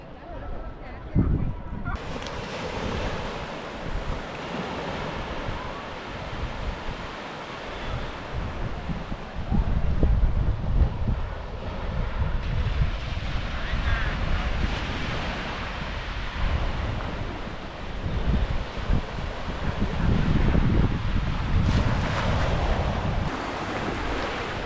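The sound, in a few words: sea waves and wind on the coast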